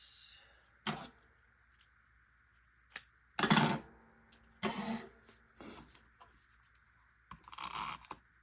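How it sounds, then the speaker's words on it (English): Paper trimmed for a scrapbook layout, heard as a few short, sharp cutting snips and rustling bursts spread across a quiet background with gaps between them. "Let me trim it."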